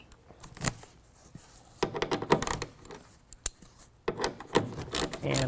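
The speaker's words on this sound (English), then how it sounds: "I'm using the 1/2 inch to go ahead and tighten that down" A bracket bolt on a tonneau cover fitted to a 2019 Chevy Silverado 1500 is tightened with a 1/2 inch tool, giving bursts of quick metallic ratcheting clicks and scraping, close and moderately loud, separated by short pauses.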